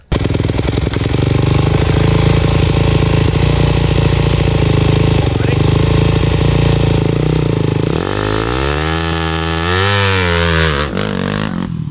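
Dirt bike engine revving loudly and continuously at a motocross start line, the pitch climbing and dipping through sharp throttle blips near the end, close and dominant throughout.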